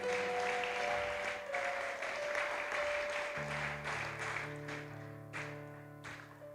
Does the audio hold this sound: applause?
yes